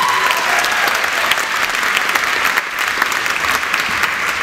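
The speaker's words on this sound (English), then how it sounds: "give a big round of applause, keep it going for Mr." Comedy show audience applauding a stand-up contestant taking the stage, a loud, dense, sustained wash of clapping with a little crowd noise.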